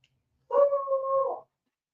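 A pet dog lets out a single drawn-out, whining howl lasting about a second, close and fairly loud, with silence before and after.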